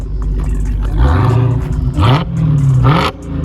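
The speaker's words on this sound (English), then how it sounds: "let's hear some revs real quick." A loud supercharged V8 engine in a Dodge Hellcat revs hard three times, pitch climbing and falling with each blip over a steady deep idle rumble.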